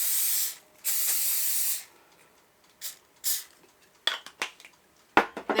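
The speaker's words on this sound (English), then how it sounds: "Then you're going to spray the top with your cooking spray." Cooking spray hisses in several bursts over breaded pickles, two long sprays followed by shorter puffs and clatter of an air fryer basket, close and clear with no talking.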